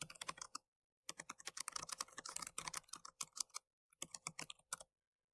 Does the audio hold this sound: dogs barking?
no